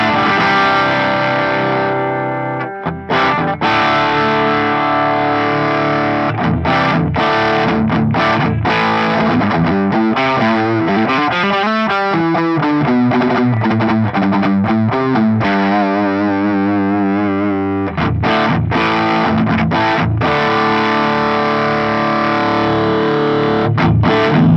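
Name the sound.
electric guitar through overdrive boost pedal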